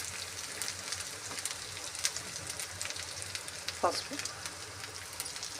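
Ginger and garlic sizzle and crackle steadily in hot oil in a pan, a continuous close frying hiss with occasional spatters, and a voice speaks briefly over it.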